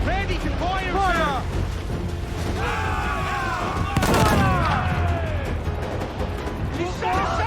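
Naval battle in Assassin's Creed IV: Black Flag with ship cannons booming amid shouted crew orders, a dense, loud mix of blasts, a big impact burst near the middle, and continuous battle noise under frequent speech.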